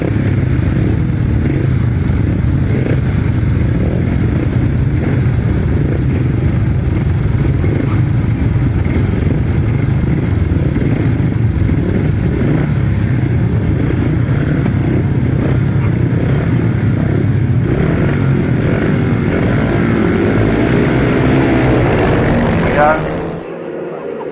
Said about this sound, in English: Just so happens to be piloting his 500cc sidecar in this race.